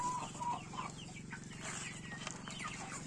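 Chickens cluck in a farmyard coop, a steady run of close clucks and soft calls over a low continuous murmur, with no voices.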